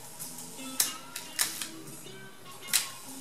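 Several crisp mechanical Leica M2 camera shutter clicks, each a sharp snap, spaced irregularly over a few seconds with quiet in between, close and fairly faint.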